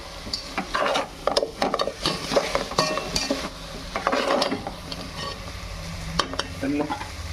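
Mushrooms fry in a pan while being stirred vigorously, with busy scraping and clattering of a spoon against the metal over a crackling sizzle, close and loud.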